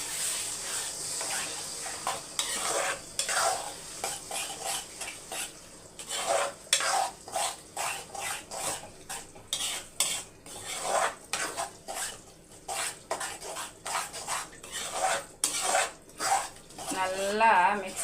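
A spoon stirs ten beaten eggs with onions in a pan, giving repeated scraping strokes and a light sizzle at close range, with a voice speaking over it at times.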